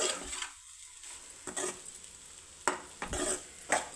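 A cauliflower and egg curry is stirred in a pan, with intermittent metal spoon scrapes and clinks against the pan over a low background sizzle.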